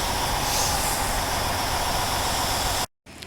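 Steady, dense rumble of a TransWA airport line passenger train running at night, a continuous loud roar of wheels and motors that cuts off abruptly near the end.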